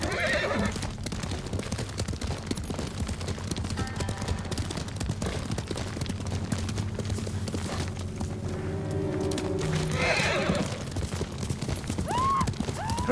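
Horse whinnies and clip-clopping hooves in the video game Ghost of Tsushima, a steady gallop running throughout with a loud neigh rising near the end, over a low ambient background.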